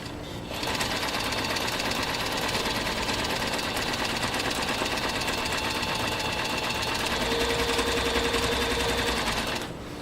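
A New Home 660 sewing machine straight-stitching through 10 oz leather, giving a loud, steady, rapid mechanical whir that runs for about nine seconds before stopping, with no talking.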